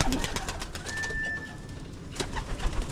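Young pigeons coo softly in a loft, a few low, muffled calls spread over a few seconds, with a thin whistling tone and light background rustle.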